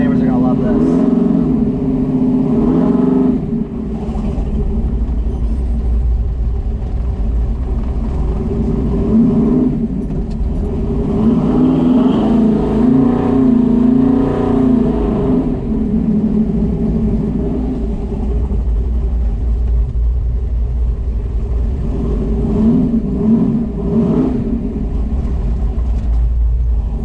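A car fitted with a 4500 rpm high-stall torque converter drives on the street, its engine droning and rising in loud revving surges with heavy low rumble, and people talk over it from inside the cabin.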